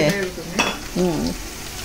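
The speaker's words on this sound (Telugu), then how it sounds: "ప్రస్తుతానికి ఉల్లిపాయలు వేగుతున్నాయండి" Onions fry in a pan in a home kitchen, a close, steady sizzle with brief voiced sounds over it.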